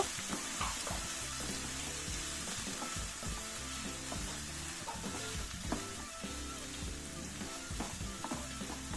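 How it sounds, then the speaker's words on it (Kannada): Finely chopped onion fries in oil with cumin and mustard seeds for a dhaba-style egg curry, a soft, steady sizzle with intermittent stirring scrapes, fairly quiet and without speech. "ಸಣ್ಣದಾಗಿ ಹೆಚ್ಚಿಟ್ಕೊಂಡಿರೋ ಈರುಳ್ಳಿನ ಹಾಕಿ ಅದನ್ನ ಎರಡು ನಿಮಿಷ ಹಾಗೇ ಹುರ್ಕೊಂಡು"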